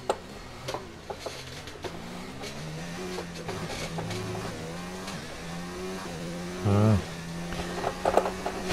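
A Formula 1 race car in F1 2019 at the China circuit, engine pitch rising and falling through gear changes as it laps quickly, with brief clicks and a burst of louder noise near the end.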